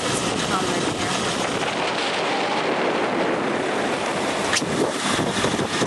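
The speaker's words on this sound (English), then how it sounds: "it's way windy and lots of swells out there" Strong, steady wind roars and buffets the microphone over the wash of choppy sea swells off the Florida Keys, a constant broadband rush with no talking.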